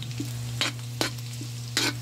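Three onions sizzle steadily in a hot pan beside a constant low hum, with a few sharp scraping stirs at irregular intervals, close up and with no talking.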